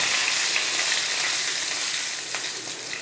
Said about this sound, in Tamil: நான் வந்து நல்லெண்ணெய் ஊற்றி தான் சாம்பார் தாளிக்க போகிறேன். கடுகு உளுந்து, கடுகு பொரியவும்